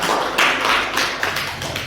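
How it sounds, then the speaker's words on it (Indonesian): Audience applause at a school positive-culture dissemination session, a steady close wash of clapping hands lasting the whole moment without any talk over it. "tepuk tangan untuk kita semua"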